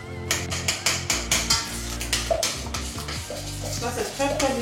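Melted chocolate and butter being stirred together for a chocolate cake, with a spoon scraping and knocking rhythmically against the pot under a low steady hum, the strokes coming about twice a second.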